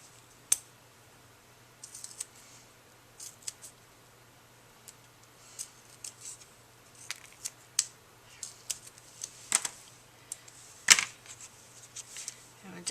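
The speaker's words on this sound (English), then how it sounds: "I'll just use these scissors to cut this." Scissors snip through card stock for a handmade birthday card in a series of short, crisp clicks and cuts, irregular and fairly faint against a quiet room hum.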